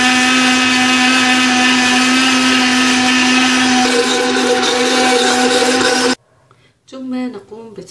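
An electric blender runs loud and steady for about six seconds, whirring a honey-sweetened drink for a liver-cleansing recipe, then cuts off abruptly, followed by a brief voice.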